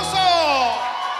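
A crowd at a music festival celebrating the Canto de Esperanza group's third anniversary cheers and whoops loudly, voices rising and sliding together in a sustained, close burst.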